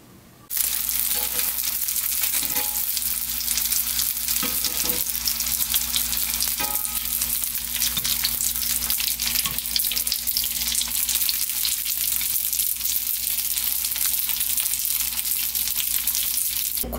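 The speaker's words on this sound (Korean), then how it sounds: "군만두로 해드셔도 맛있습니다" Kimchi dumplings pan-frying in oil, a loud, dense, continuous sizzle that starts abruptly and holds steady throughout, with faint occasional clicks and no talking.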